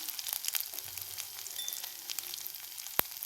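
Spices and masala sautéing in oil in a pan for lemon rasam, a steady soft sizzle with faint scraping of stirring and a brief sharp tick near the end, no voices.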